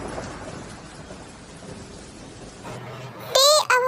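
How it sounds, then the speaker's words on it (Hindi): Steady hiss of rain falling, with a low rumble early on; a voice speaks briefly near the end. "ये तो बारिश होने लगी"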